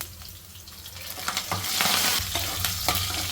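Curry leaves sizzle and crackle in hot oil in a pan for okra fry, with a continuous frying hiss, bursts of spattering and light stirring noises, close and fairly loud.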